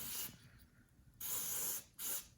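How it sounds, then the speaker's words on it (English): Aerosol cleaner sprayed onto a Honda Odyssey mass airflow sensor in three bursts: a long opening hiss, then two more sharp, close sprays separated by brief quiet gaps. "All you gotta do is spray this like that."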